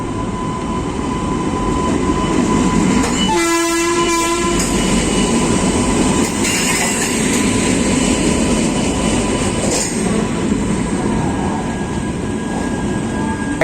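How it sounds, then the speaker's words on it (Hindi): The Purnagiri Jan Shatabdi Express passes close by with a loud continuous rumble and clatter of wheels on rails, while a long train horn sounds partway through. "क्योंकि HOG पे ट्रेन चल रही है।"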